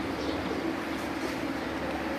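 Crested domestic pigeons on a rooftop loft give low, continuous cooing that murmurs steadily at moderate volume, with no clear speech over it.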